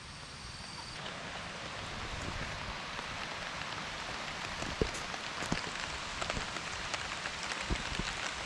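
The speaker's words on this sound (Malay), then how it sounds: "Hai nak hujan Di situ tu Lebat ni" Heavy rain falling outdoors during a fishing trip, a steady dense hiss of drops on surfaces that slowly grows louder, with scattered closer drips and taps, faint and continuous.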